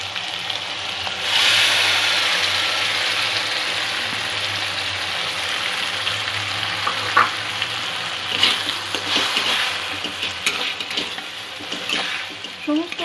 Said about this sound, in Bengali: সমস্ত উপকরণগুলো দু এক মিনিট একটু ভাজা করে নেব।